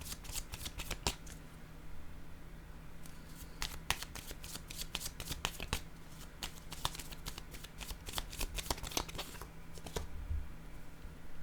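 Tarot cards are shuffled and laid out in a quiet room, giving repeated soft riffling and sharp flicking snaps in uneven bursts close by.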